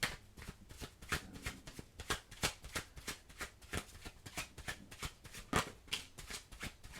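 Tarot cards are shuffled by hand in quick, rhythmic riffles and soft slaps, a steady patter of short bursts, faint and close, with no talking.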